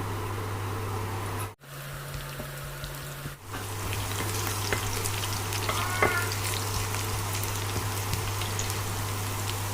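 Chopped garlic and a small onion fry in hot oil for a dal tadka, giving a loud, continuous crackling sizzle. There are two brief dropouts early on and a steady low hum underneath.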